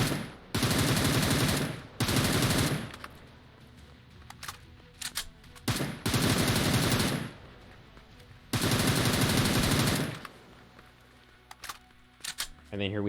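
Bursts of automatic M4 rifle fire fitted with a barrel attachment, in the mobile shooter PUBG New State, come as several long sustained volleys separated by short gaps and scattered single shots, loud and close.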